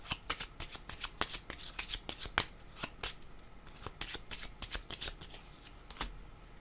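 Playing cards being shuffled by hand at close range, a rapid series of crisp riffling flutters and taps repeating in quick bursts, with no voices over them.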